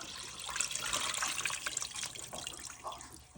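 Water being poured into an Instant Pot for corned beef, a close, splashing, bubbling stream that runs continuously for a few seconds with no talking.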